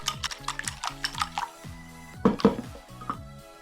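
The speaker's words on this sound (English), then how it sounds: "Go for a quick, intense whipping motion using your wrist and arm." Eggs whisked quickly by hand for a Chinese egg and corn stir-fry, a fast string of light wet clicks and splashes against the bowl, close and steady, with no talking.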